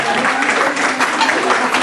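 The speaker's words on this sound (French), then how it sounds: "Vous pouvez l'applaudir bien fort." An evening audience applauds the winner with dense, continuous clapping that stays loud and even for the whole short stretch.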